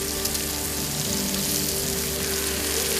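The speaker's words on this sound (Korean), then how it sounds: "대리석 불판 위에서 지글지글 삼겹살이 익어간다" Pork belly sizzles on a marble grill plate at a marble mine in Jeongseon, giving a steady, dense, close crackling hiss that holds unbroken throughout with no voices.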